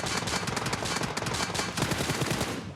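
Rapid automatic gunfire from the PUBG Mobile shooter game rattles in dense, fast bursts, loud and close, with a brief break before another volley.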